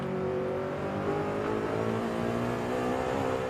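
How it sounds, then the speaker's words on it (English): Car engine in the Forza Horizon 5 video game, revving steadily as VTEC engages. It gives a sustained, buzzy drone whose pitch climbs gradually over several seconds, with no other sounds. "The sound will change once the VTEC hits."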